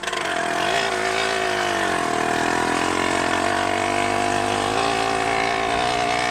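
A 100cc motorized bicycle engine with a 49mm iron sleeve drones loudly and continuously nearby, its buzzing two-stroke pitch wavering slightly as it revs.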